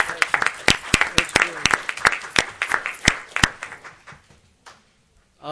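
A city commission meeting audience applauds with scattered, uneven hand claps that build briefly and then thin out into near silence, with voices murmuring underneath.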